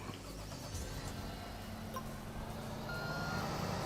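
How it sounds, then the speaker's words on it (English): Reversing beeps from a dump truck in the Construction Simulator 2 game, a thin steady tone sounding over a constant rumbling engine drone, with no talking. "Where's my dump truck?"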